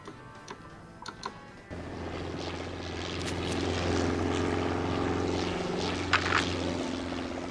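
A helicopter touches down at a landing zone in the S.O.G. video game, its rotor and engine drone swelling in loudness and holding steady, with scattered faint clicks over it.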